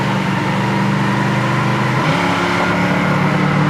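A 1965 Pontiac GTO's engine pulls hard on the road at speed, a loud, steady, throaty drone with rising pitch filling the whole stretch.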